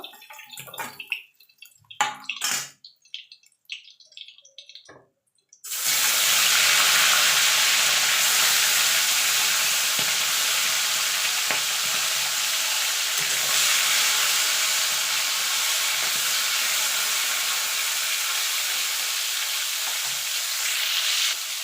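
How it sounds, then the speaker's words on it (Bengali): Small tangra fish frying in oil in a pan: after a few seconds of quiet clinks, a loud, dense sizzle bursts in and roars on steadily, close up. "এইভাবে বাকি মাছগুলো সব আমি ভেজে নেব"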